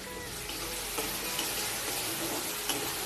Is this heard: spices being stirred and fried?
yes